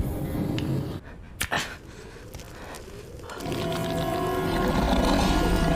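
Film sound of a giant mutant wolf attacking a person inside a house in a snowy village: harsh snarling, growling bursts and sharp cries, then a dense, loud roar of chaotic noise swelling toward the end.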